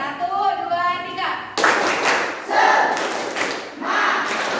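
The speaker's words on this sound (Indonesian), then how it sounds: "Mulai tepuk semangat ya." A classroom group performs the 'tepuk semangat' clapping rhythm, a sharp burst of many hands clapping in short patterned bursts, close and loud, after a voice speaks.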